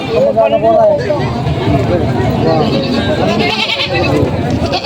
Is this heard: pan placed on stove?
no